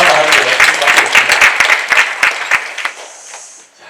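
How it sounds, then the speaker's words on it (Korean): Audience applause at a citizens' briefing hall, a burst of many hands clapping loudly at close range that gradually thins out and fades over a few seconds. "여러분 우리 변호사 박수 한번 주십시오."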